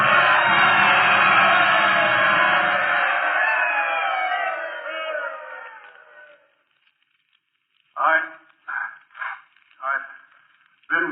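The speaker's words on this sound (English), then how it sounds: "the crowd rose to its feet and they told him they loved him" A ballpark crowd roars and cheers loudly in a 1943 radio drama about the Yankees, the cheering swelling and then fading out over several seconds, followed by a few short bursts of talk.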